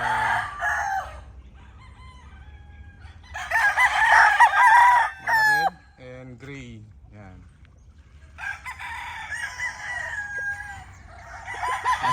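Rooster about seven months old, its comb drooping, crows loudly up close in long bursts between softer clucks, with someone talking quietly in the background.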